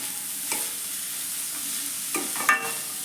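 Grated carrot stirred and fried in a pan for veg momo filling, a low steady sizzle with a few short scraping strokes of a spoon, close and fairly quiet.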